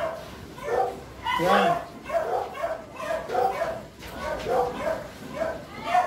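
Dogs bark and yip in short repeated bursts close by, mixed in with steady conversation from people nearby throughout.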